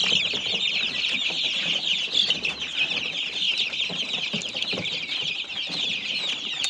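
A dense flock of chicks peeps continuously in a high, shrill chorus, with occasional clucks from chickens mixed in nearby.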